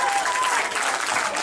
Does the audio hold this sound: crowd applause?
yes